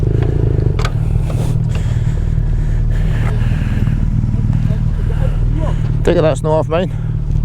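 A vehicle's engine idles steadily as a low, constant rumble close by, running beneath a man's conversation throughout, with brief clatter near the end.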